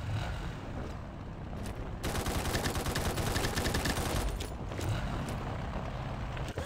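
Gunfire on a video game combat zone map rattles in a fast sustained burst that fades into scattered shots, moderately distant over a low rumbling background.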